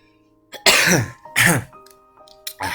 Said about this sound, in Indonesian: Masya Allah, batuk.